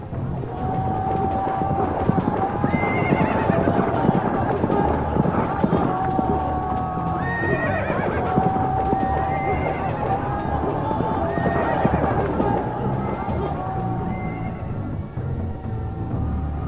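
Cavalry horses neighing repeatedly and galloping in a battle sound effect, several whinnies rising over a loud, continuous rumble of hooves and clamour.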